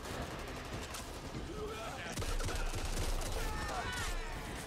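Dense gunfire in the zombie shooter Back 4 Blood, a continuous burst of rapid shots and automatic fire sustained throughout, with game sounds and effects layered underneath.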